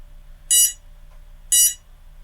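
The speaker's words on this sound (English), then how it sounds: "If your quad stops, an alarm is sounding." Two short, high-pitched electronic beep bursts from a drone's lost-link alarm, about a second apart, loud and clear over a faint low hum.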